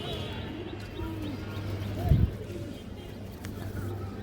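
A male pigeon of an old breed line, lively and restless, coos in a few soft rounded phrases close by, with a brief bump of handling noise midway and a steady low hum underneath.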